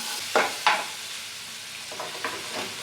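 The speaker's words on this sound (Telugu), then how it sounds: "ఇప్పుడు ఇందులో సన్నగా కట్ చేసి పెట్టుకున్న ఒక చిన్న ఆనియన్" Finely chopped onion drops into a hot tempering of chana dal and turmeric, giving a soft, close sizzle with a few brief stirring scrapes near the start and again toward the end, otherwise a quiet steady hiss.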